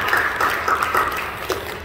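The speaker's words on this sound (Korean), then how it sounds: "우리 크게 박수 해주시죠" A church congregation at a Friday all-night worship service claps together, a steady moderate wash of applause lasting a couple of seconds.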